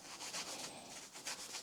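Scotch-Brite scrubbing on a corroded brake caliper slider pin from an NC MX5 Miata front brake job, a quick series of faint, rhythmic rubbing strokes heard close up.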